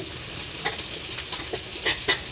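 Soybean chunks frying in hot oil, a continuous soft sizzle with a few brief stirring scrapes.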